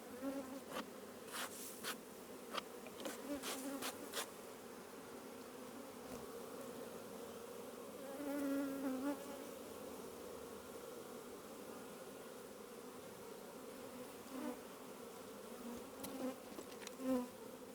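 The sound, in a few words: honeybees buzzing around hive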